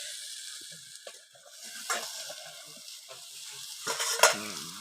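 Potatoes and tomatoes fry in a pan, cooked village style: a soft sizzle runs under intermittent stirring scrapes and light clinks of a utensil against the pan, with a sharper scrape near the end and no talking.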